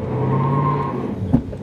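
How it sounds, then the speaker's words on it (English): Jeep Grand Cherokee Trackhawk engine held on the brakes with line lock, a steady loud drone with a brief sharp burst near the end, close and without talk. "if you give it some gas,"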